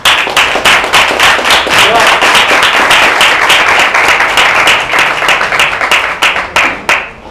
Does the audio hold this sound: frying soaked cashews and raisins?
no